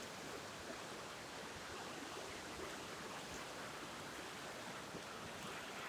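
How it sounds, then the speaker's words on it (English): A river flows steadily nearby, a continuous broadband rush and gurgle of moving water at an even level throughout, with no talking. "Beautiful river."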